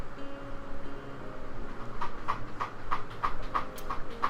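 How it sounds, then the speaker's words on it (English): A cat scratching: a run of evenly spaced scraping strokes starts midway and repeats about three times a second, fairly faint over a soft steady background. "If you can hear that scratching, that is my cat being annoying."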